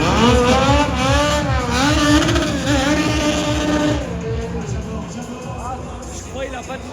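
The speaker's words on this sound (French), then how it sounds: "Voilà, le freinage, la maîtrise de Thibaut Noguès avec sa machine" A racing motorcycle in a 24-hour endurance race on a circuit brakes hard, its loud engine note dropping through downshifts in a series of falling revs, close and dominant, with voices talking over it.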